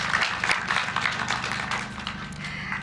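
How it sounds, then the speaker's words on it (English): An audience applauds teachers at the announcement of Kenya's 2023 KCPE and KPSEA exam results, producing a steady wash of many hands clapping that holds at a fairly even level over a low hum before fading slightly near the end. "Please let us applaud our teachers."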